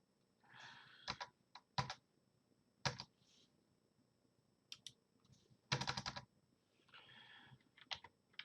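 Bursts of clicky keystrokes on a computer keyboard, in short irregular runs with pauses, close and fairly quiet.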